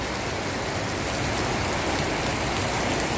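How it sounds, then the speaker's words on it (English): Steady rain falling up on a mountainside in the Philippines, a dense, constant hiss of drops close by with no pauses or voices. "So the rain is up here, up the mountain for a change."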